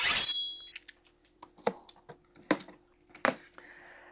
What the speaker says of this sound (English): let's cut it open and get to the unboxing